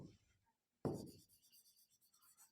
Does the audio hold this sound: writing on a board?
yes